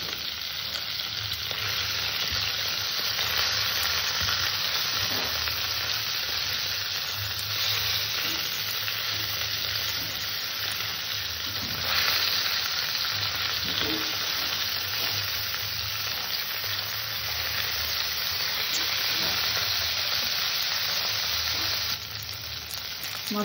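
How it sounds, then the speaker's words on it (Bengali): Two lata fish frying in hot oil in a kadai, a continuous close sizzle with occasional sputtering bursts, unbroken and without voices. "মাছটা ভাজা হতে হতে আমি শাক পাতাটাকে কুচিয়ে নিয়ে আসবো।"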